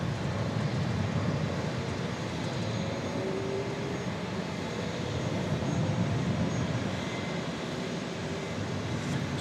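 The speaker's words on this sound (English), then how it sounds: "A lovely 757. I'm a fan of that aircraft." A Boeing 757 jet at Dallas Love Field gives off a steady, broad engine roar that holds at an even level from start to finish, with no talk over it.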